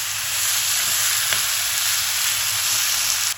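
Bitter gourd and onions frying in hot oil, Pakistani dhaba-style karela piyaz, give a steady, dense sizzle that holds evenly throughout with no talking.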